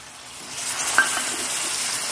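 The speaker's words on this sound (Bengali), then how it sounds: "জল দিয়ে দিচ্ছি বন্ধুরা" Water hits a pan of frying chicken curry, giving a steady soft sizzle with a brief sharp hiss near the middle, heard alone at close range.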